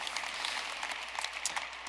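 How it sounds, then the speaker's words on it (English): An audience at a keynote applauds steadily, a dense wash of many hands clapping, moderately loud and continuous throughout, with no talk heard. "Well, yes, you can clap."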